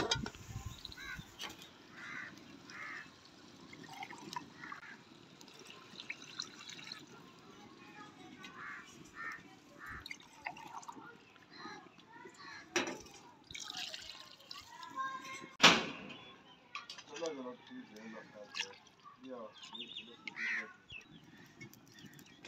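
Water poured into a pot of fried chicken and masala for a desi-style chicken yakhni, a steady trickling splash over roughly twenty seconds with faint background voices and bird calls.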